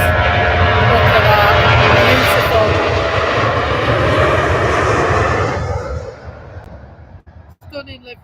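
Boeing 737 airliner at Manchester Airport, a loud, steady jet engine roar that holds for about six seconds before fading away, with brief faint sounds near the end.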